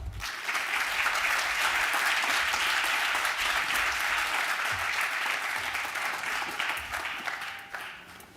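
Steady, sustained applause from an audience at a high school dedication event welcoming a speaker, loud and even throughout, fading out at the very end.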